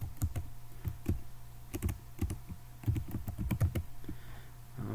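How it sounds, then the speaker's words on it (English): A terminal command being typed on a computer keyboard, with irregular bursts of quick close clicks and short pauses between keystrokes, alone without talk. "let's type sudo apt-get"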